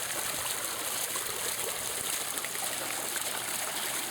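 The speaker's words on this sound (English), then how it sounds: "the way the water comes out over the stone is kind of a water sculpting is what I would call it" Water pours steadily over a carved stone fountain, a Toru Oba Nami piece, making a continuous close, bright splashing and trickling rush with no breaks and no voices.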